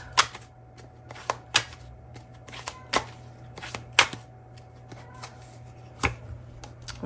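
Valentine Connection tarot cards are shuffled close by in a few quick riffling bursts with sharp slaps between quieter pauses. No voices accompany it.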